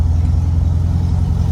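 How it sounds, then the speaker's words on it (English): Karmann Ghia engine idling through an Abarth muffler, a steady low rumble that stays even and close throughout with no talk over it. "that Abarth muffler. It's got that nice little rumble to it."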